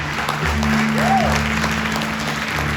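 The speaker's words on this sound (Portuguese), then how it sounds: "Você pode aplaudir ao Senhor por isso?" A church congregation applauding during a sermon, a dense steady wash of clapping from many hands, loud and continuous, with a brief vocal sound rising over it partway through.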